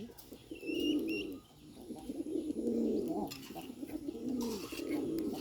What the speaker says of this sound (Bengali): দেখুন বোম্বাই কবুতর অনেক সুন্দর ডাকে এটা